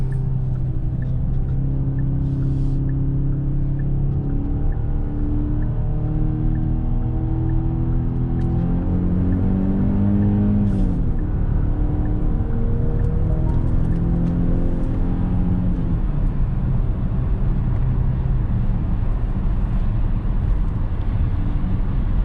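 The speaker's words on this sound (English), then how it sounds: "Go ahead and put the SUV in sport, and let's hop on the highway" A 2021 Genesis GV80 2.5T SUV in sport mode accelerates onto a highway, its engine note rising and falling through gear changes under a constant cabin rumble, with a few faint clicks.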